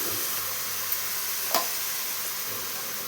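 Coriander powder being stirred into hot oil in a pan, a steady close sizzle with a couple of brief spoon knocks, no voices.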